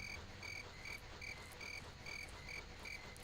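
Crickets chirp in steady, evenly spaced pulses over a soft insect-and-frog night ambience in The Elder Scrolls game world, continuous and moderately faint, with no voices.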